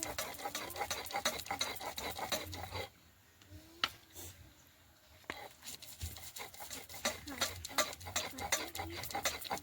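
Soaked batter being ground by hand on a shil-nora grinding stone, with repeated rough rubbing and scraping strokes in a steady rhythm, broken by a brief quiet pause partway through, close and moderately loud.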